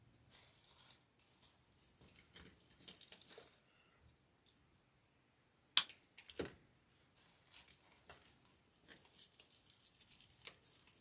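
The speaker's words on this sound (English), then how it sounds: "I'm going to trim my stems down." Tulip and eucalyptus stems being trimmed for a wreath, heard as scattered soft snips, rustles and crinkles with quiet pauses between, faint and close by.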